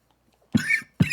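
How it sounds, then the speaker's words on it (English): A man coughs twice, close and loud, each a short harsh burst with a brief pause between. "I don't know why I keep coughing."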